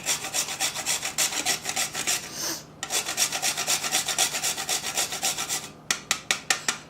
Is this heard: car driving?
no